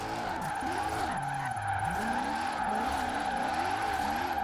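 A powerful drift bus with no grip slides sideways in Forza Horizon 4, its engine droning steadily under a continuous, wavering tire squeal, loud and close throughout.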